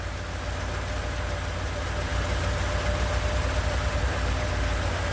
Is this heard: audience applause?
no